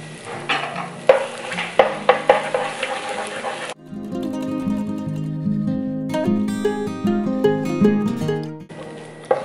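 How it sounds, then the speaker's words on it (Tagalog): Egg being mixed and cooked in an electric skillet: sharp clicks and scrapes of stirring over a soft sizzle, followed by a stretch of tonal sound, close and moderately loud, no talk. "Dito ko na siya hahaluin."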